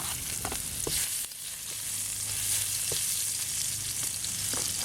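Onion sizzles and fries steadily in a pan that just held shrimp for Shanghai noodles. A continuous close hiss carries a few faint stirring clicks, and no one speaks.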